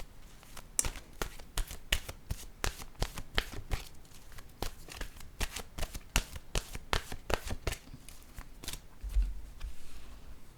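Oracle cards are shuffled by hand in a quick, steady stream of close, crisp riffling flicks lasting several seconds, followed by a soft thump near the end as a card is drawn, with no speech.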